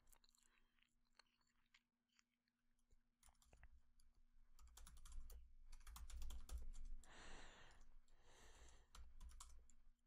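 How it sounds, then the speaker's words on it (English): Quick bursts of typing on a computer keyboard, with irregular clicks and a few louder key presses close by, against a faint steady hum. "I'm just hitting tab after typing the name in."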